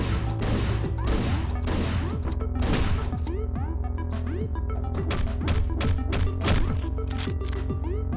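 Gunfire from a shotgun and an assault rifle in the Hotline Miami video game, a dense run of sharp, punchy thuds and cracks over a steady music bed, with no talking.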